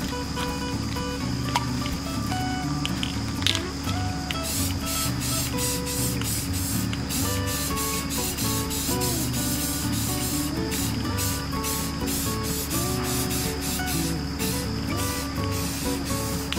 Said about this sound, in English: So after this piece has dried and I sprayed over the vinyl word here,